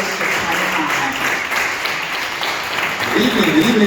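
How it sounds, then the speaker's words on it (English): Continuous crowd applause for Dwayne Moore, a candidate for New York City Assembly District 29, at an evening community gathering, steady and fairly loud throughout with crowd noise and some voices mixed in. "please give a round of applause for Dwayne Moore"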